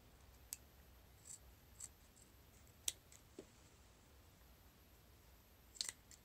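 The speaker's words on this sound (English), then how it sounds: "You snip the corners of the back piece." Scissors snip the fabric corners of a surgical cap, giving a few faint, sharp, scattered clicks over a quiet background.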